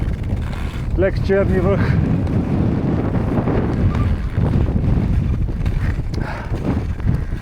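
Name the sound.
strong cold wind at -20°C on mountain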